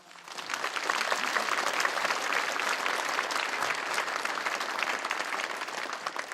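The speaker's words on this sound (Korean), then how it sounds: "우리 박윤영 목사님 뜨거운 박수로 여러분 환영해 주시기 바랍니다" A church congregation gives a warm round of applause welcoming a visiting pastor, the clapping swelling in quickly and holding thick and even throughout at a moderate level.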